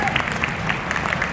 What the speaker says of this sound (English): Let's give Liv another round of applause.